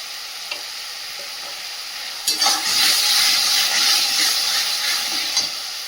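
Spice masala hitting a hot pot, a quiet simmer that jumps midway into a loud, crackling sizzle with a steamy hiss and a few stirring clinks, with no voices.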